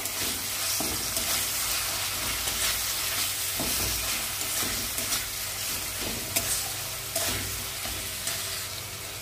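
Spice masala with a pinch of sugar being fried down for a pomfret curry, a continuous loud sizzle broken by repeated scraping stirs of a spoon against the pan, close and with no talk.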